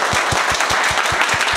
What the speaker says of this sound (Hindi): तो इसके लिए जोरदार ताली दे दो भाई